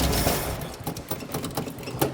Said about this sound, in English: Got the 289 V8 in it. We'll see if she'll come to life for us today.